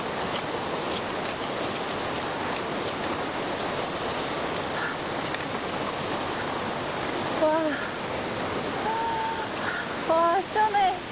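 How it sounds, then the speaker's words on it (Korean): A small nameless waterfall in Kyrgyzstan rushes in a steady, dense roar of falling water, close and constant throughout, with faint bird calls near the end. "이름 없는 작은 폭포마저 그 기세가 거침없고"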